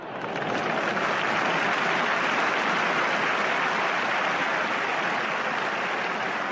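Theatre audience breaking into a sustained ovation, dense loud applause from a large crowd filling the whole stretch without pause.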